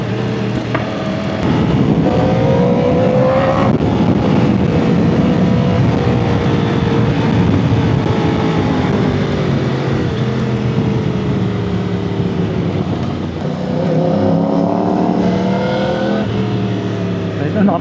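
Yamaha R1 WGP Limited motorcycle riding in first gear through a tight corner, its engine droning loud and steady with rising revs near the start and end, a voice talking over it throughout.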